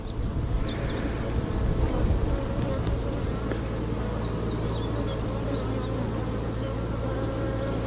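Honeybees buzz steadily around an open hive during a beekeeper's inspection of brood boxes, a dense continuous drone close to the microphone with a low hum underneath and no pauses.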